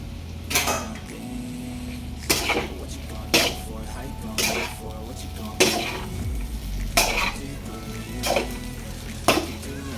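A spoon scrapes and stirs egg fried rice, made from leftover white rice, in a pan: about seven sharp, evenly spaced scraping strokes, close and distinct over a low background hum.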